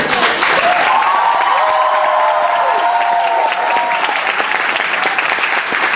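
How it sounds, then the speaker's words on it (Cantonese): An audience at a family celebration claps loudly and continuously, a dense, even wall of applause with some cheering voices rising through it, close and sustained for the whole stretch. "聽話呢個歡呼聲係拍手掌"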